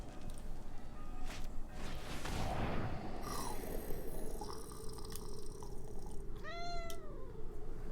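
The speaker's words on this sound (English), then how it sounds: "Aren't you a precious cat?" Domestic cat meowing indoors, a short rising-falling call near the end over a steady background hiss, with faint clinks and rustles earlier.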